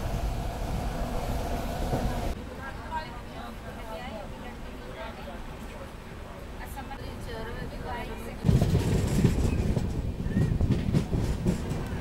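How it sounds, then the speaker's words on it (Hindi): The Vaishali Express overtakes the Maurya Express on an Indian railway, with rolling rail noise and clatter heard from inside a sleeper coach. Someone talks over it, and the noise swells louder toward the end as the trains pass. "यहाँ हम ओवरटेक कर रहे हैं मौर्य एक्सप्रेस को, जो कि हटिया से चलकर गोरखपुर की तरफ जा रही है।"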